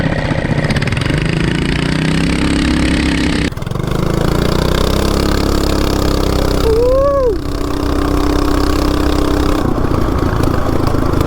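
A Coleman CT200U minibike fitted with a 420 big block engine revs up loudly and continuously, its engine drone rising in pitch as it accelerates hard, cutting out briefly before pulling again.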